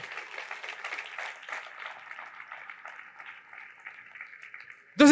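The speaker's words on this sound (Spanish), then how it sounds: "¿Cuántos les dan un aplauso al Señor?" A church congregation at a sermon claps and cheers briefly. The clapping starts moderately strong, then thins and fades into quiet scattered hands before an abrupt sound at the very end.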